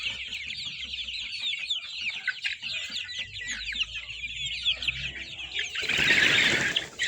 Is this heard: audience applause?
no